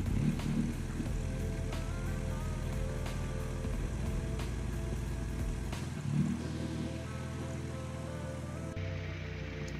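A Saab 9-3 engine with a newly installed Snail Werx 19T turbo runs continuously at idle, a steady low rumble with faint wavering and small surges, close by and with no talk.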